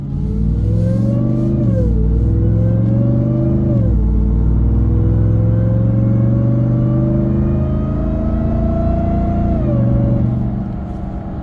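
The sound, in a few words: Ram TRX truck with K&N intake engine revving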